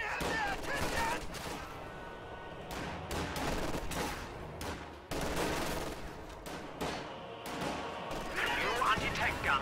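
Video game battle gunfire as enemy troops fire on a squad, bursts of rifle and machine-gun shots with thuds and explosions, fairly distant and mixed with speech over continuous combat noise.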